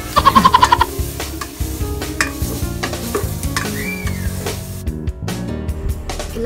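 Pork with vegetables and tomato sizzles in a pan while a spatula stirs and scrapes through it, with a few sharp clanks at the start and a continuous frying hiss throughout.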